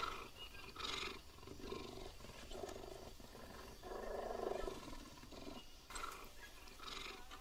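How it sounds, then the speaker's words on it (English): A big cat roars in the jungle of the survival video game Green Hell, several deep rumbling roars and growls rising and falling in bursts, fairly close and loud with no talk over them. "I hear a cat somewhere."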